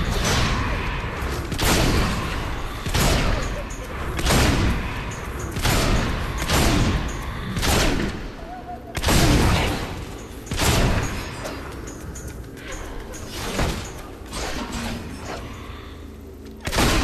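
Repeated sharp pistol shots from the Fable 2 video game, a dozen or so loud bangs fired in uneven bursts about a second apart, each ringing out briefly over a steady background score.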